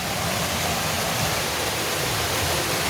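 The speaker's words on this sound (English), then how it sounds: "Okay, it's getting louder and louder. Louder. Louder! Yeah. The waterfall must be closed." Dao Falls in Cebu roars as a loud, steady rush of falling water, a dense unbroken wash of noise that fills the scene without any talking.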